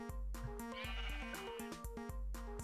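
Sheep in a blocky Minecraft-style video game bleat over a steady bed of melodic game music, with short wavering baa calls repeating several times at moderate volume.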